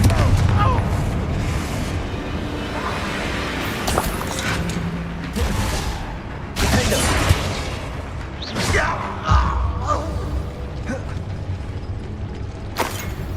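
Spell explosions and blasts in the video game Hogwarts Legacy, a dense run of booming impacts and crackling bursts layered over rumbling game noise, with several sharp loud hits scattered throughout and a voice casting spells.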